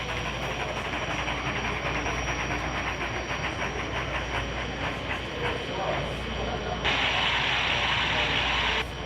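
A narrow gauge logging train rolls along rails at a railroad yard, with steady rumbling, hiss and rhythmic clatter close by and a brighter hissing burst near the end.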